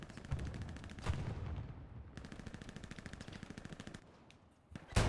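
Machine-gun fire in a multiplayer World War II shooter match on the Carentan map, rapid bursts of close, loud, rattling shots that pause briefly and resume in a long sustained string, with a sharp heavier blast near the end.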